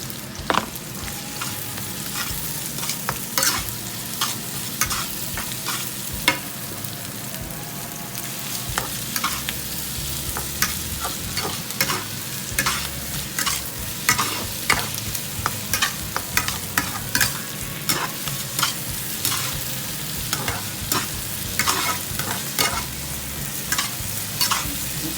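Onion and other ingredients stir-fry in a pan, giving a steady loud sizzle throughout with frequent scraping and clacking of the utensil stirring the food.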